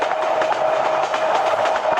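A train rolls along the tracks in Train Simulator Bangladesh, a close, steady rumble with rhythmic clickety-clack from the wheels and no talk over it.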